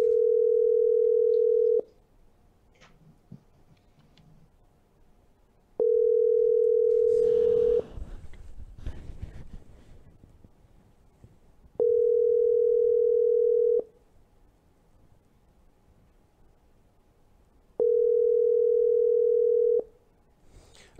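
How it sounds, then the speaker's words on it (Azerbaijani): A telephone dial tone for a live call on air sounds as four steady, identical tones, each lasting about two seconds, separated by roughly four-second gaps of quiet room noise and faint murmuring. "mən canlı efirdə zəng edirəm, Tofiq Şahmuradovu görürsünüz."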